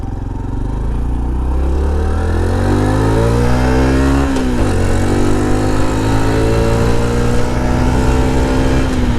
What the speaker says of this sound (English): It sounds like this semi-automatic downshifting is chirping the rear tires.